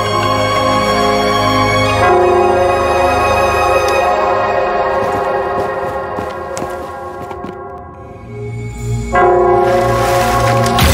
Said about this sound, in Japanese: この鐘の音をたどれということか。